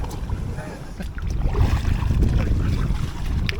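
Strong gusting wind buffets an inflatable kayak on the River Ancholme, a low rumbling roar that swells and stays loud throughout, with faint water and boat knocks beneath.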